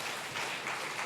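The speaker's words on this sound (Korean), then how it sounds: "우리 이 친구에게 축하 격려 박수 한번 하도록 하겠습니다" Soft, brief applause from a church congregation during a Sunday service, an even patter of clapping heard at a distance for about a second.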